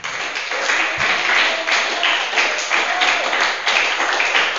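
An audience claps together in a dense, steady patter that carries through the whole moment at moderate volume, without any talking over it.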